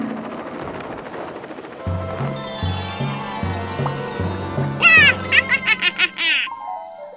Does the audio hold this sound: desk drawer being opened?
no